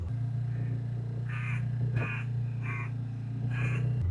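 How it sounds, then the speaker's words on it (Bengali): Crows caw several times in a steady series over a constant low engine drone, apparently from a boat cruising the Poovar backwaters in Kerala; the calls are fairly close and clear. "বিভিন্ন ধরনের পাখির দেখা পাবেন, আর ডাক তো তার সঙ্গে আছেই"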